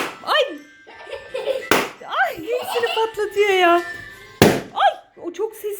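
Two sharp balloon pops burst out during a children's toy game, separated by a few seconds, amid excited voices and laughter.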